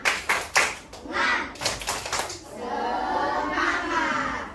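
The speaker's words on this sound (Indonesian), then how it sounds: "Tepuk semangat." A school class performs a rhythmic 'tepuk semangat' clapping chant: a few sharp, loud claps in a quick pattern, then a burst of children's voices and classroom noise.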